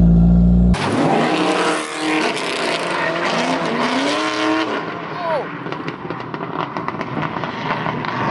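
A Toyota AE86 drift car screams through a drift, its engine revving hard with shifting pitch as tires squeal and skid, loud and close, after a brief opening burst of low rumble.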